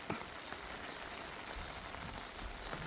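Rain falling steadily outdoors in the countryside, a faint even hiss of drops with a few louder patters, no voices.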